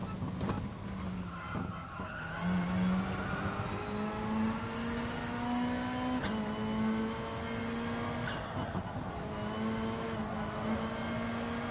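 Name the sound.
race car accelerating out of a corner in a driving video game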